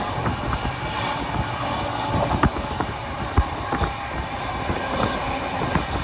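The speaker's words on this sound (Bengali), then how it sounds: "রামপুরহাট থেকে ট্রেন আমাদের ছেড়ে দিল" A passenger train runs onward after leaving Rampurhat at night, a continuous rumble heard from inside with scattered rail clicks and knocks from the wheels, no speech.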